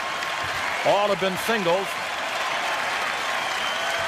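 A ballpark crowd at an Indians–Orioles game applauds and roars steadily after a base hit, a dense, continuous wash of clapping and cheering under a brief spoken comment from an announcer.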